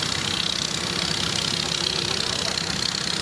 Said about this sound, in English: Marvellous strength of a little tractor. It's got a downswept exhaust.